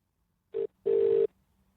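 A telephone line rings back: one short burst of ringing tone followed by a longer one after a brief pause, clear and isolated with no talk.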